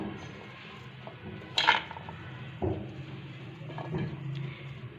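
A spoon clinks and scrapes against a metal bowl while carrot and beetroot pickle spices are stirred with vinegar, with a few sharp clinks over a quiet kitchen background.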